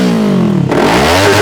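Kawasaki Ninja 400 sportbike engine revved up toward redline, a loud close rising growl that dips briefly and climbs again in one quick burst of throttle.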